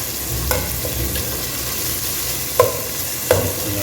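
Pan on a stove rattling and knocking while broast chicken biryani cooks, a few sharp clanks standing out over a steady sizzling, stirring background.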